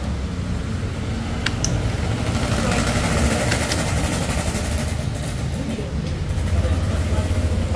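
A Yamaha NMAX scooter fitted with a keyless system idles steadily close by, a continuous low engine rumble running throughout with no clear start-up moment.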